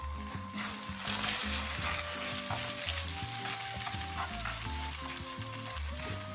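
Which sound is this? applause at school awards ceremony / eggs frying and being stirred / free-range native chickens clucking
eggs frying and being stirred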